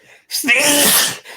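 A single loud sneeze bursts out close by, rising sharply and holding for about a second before cutting off, with faint room tone around it.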